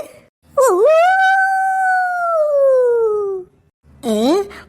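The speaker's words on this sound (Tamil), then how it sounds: "நிறைய ஊழ விடுற சத்தம் கேக்கு" A long, loud jackal howl rises and slowly falls for a few seconds, then a second howl starts, close and clear against near silence, in a cartoon.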